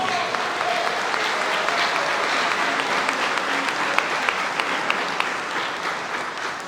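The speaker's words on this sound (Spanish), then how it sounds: "Reciban por ahora, por favor, con un gran aplauso." Warm, sustained applause from the audience at a cultural conversation event on peace and democracy, a dense, steady wash of clapping lasting several seconds, with faint voices underneath.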